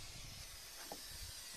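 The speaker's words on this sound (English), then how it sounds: "What you do is you spray this 3M 77 adhesive." 3M 77 spray adhesive is sprayed from an aerosol can onto a metal chimney liner pipe, giving a continuous broad hiss throughout.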